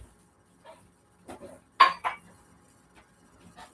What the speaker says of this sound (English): I'm going to cut up our condiments for our fajitas.